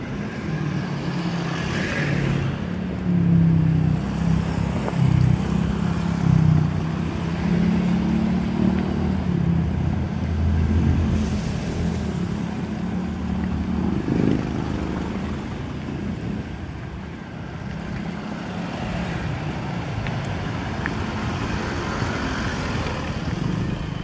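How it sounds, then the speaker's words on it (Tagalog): Road traffic in Pintong Bato, Quezon City: a steady wash of passing cars and motorcycles with low engine rumble and occasional revving, continuous and moderately loud with no talk. "traffic dito sa sa"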